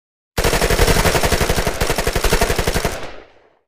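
Rapid automatic gunfire from a weapon in the video game Melon Playground, a loud sustained burst of dozens of evenly spaced shots lasting about two and a half seconds before trailing off, with no talking.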